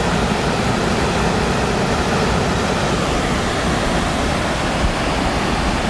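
The waterfall at Cachoeira do São Nosso roars in a loud, steady, broadband rush that fills the scene without pause.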